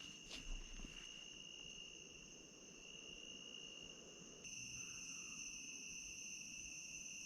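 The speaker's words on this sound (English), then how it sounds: "Speaking of sounds, probably you might hear some bugs buzzing." Insects chirring at night in a forest campsite, a continuous high, even drone that is faint and steady, with a slight rise partway through and no voices.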